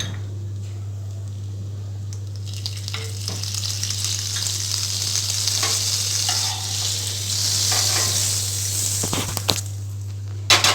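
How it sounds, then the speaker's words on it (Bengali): A sandwich frying in butter in a pan gives a loud, close sizzle with scraping and stirring noises, plus a constant low electrical hum underneath and a few sharp clinks near the end. "এবার আমি অপর পিঠে এটিকে দেব। দেখবেন একটা পিঠ কি সুন্দর লাল হয়ে গেছে। আমি আরেকটু বাটার দেব।"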